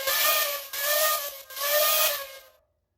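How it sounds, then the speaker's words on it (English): A large steam locomotive's whistle in a train video game sounds three times in close succession, loud, shrill, multi-toned blasts with brief breaks between them, then stops into silence. "I absolutely adore the whistles on these bigger engines"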